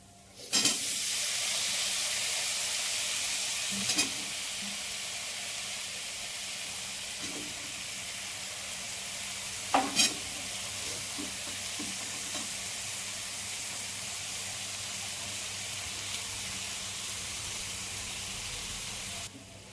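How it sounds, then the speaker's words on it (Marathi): Cauliflower, peas and potato sizzle and hiss steadily in a hot pan, with a few clinks from stirring against the metal. "आणि आता फ्लावर, वाटाणा, बटाटा भाजी टाकते."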